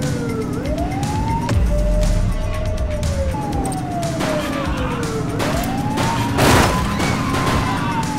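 Gunfire during a police chase in the video game The Precinct: rapid shots crackle under loud, continuous wailing police sirens and engine rumble, with a denser volley near the end.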